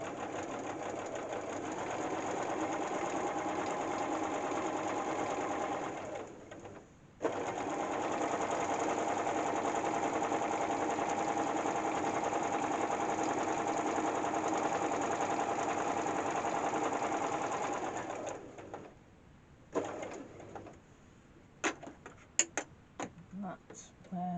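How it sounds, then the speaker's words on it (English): A sewing machine stitches single-fabric binding onto a quilt about a quarter inch from the edge. It runs steadily and loudly, stops briefly, runs again for a long stretch, then gives way to scattered handling clicks. "So I now want about 1/4 inch, thereabouts, and just start stitching."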